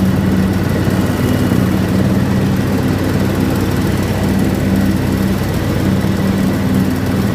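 A John Deere X724 four-wheel-steer lawn tractor blows cut grass into a windrow, its engine holding a loud, steady drone close by from start to finish with no talking.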